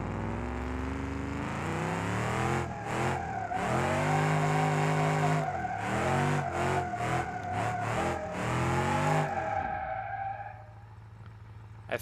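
Simulated car engine in BeamNG.drive revving hard through a drift, a loud sustained high-rpm roar with rising and falling pitch, broken by brief cuts and tire squeal, then dropping to a low idle near the end.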